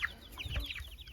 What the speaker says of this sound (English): Oh dear, look at all those chickens.